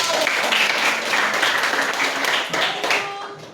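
Classroom applause from students, a dense steady patter of many hands clapping close by for several seconds, with faint voices mixed in.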